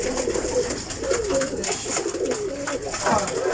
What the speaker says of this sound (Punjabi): ਇਹ ਸਲੇਟਾ ਕਬੂਤਰ